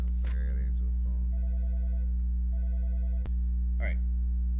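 A phone gives a repeated electronic ringtone of short, evenly spaced tones at moderate volume. A voice speaks briefly before and after.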